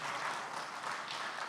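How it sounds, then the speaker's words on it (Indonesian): A church congregation at a Sunday service applauds, a dense, even wash of many hands clapping heard mid-stream at moderate volume with no voices on top. "yang setuju beri tepuk tangan buat nama Tuhan Yesus kita."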